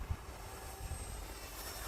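A foam RC airplane flies at a distance, its small electric motor giving a faint, steady buzzing drone under wind noise.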